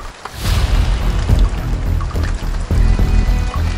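Fast-flowing Huaule River current rushing over large stones in a stepped riverbed, a loud, continuous broadband roar and splash that stays close throughout with no voices.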